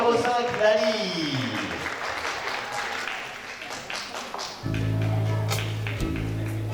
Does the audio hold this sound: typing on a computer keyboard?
no